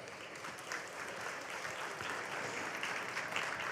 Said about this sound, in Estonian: Ma palun veel üks suur aplaus parimatele.